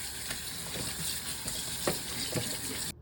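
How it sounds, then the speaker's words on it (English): Water runs and splashes over boiled bamboo shoots being rinsed, a soft continuous hiss with scattered light clatters, fairly quiet and close, ending abruptly. "We're ready to go ahead and rinse this."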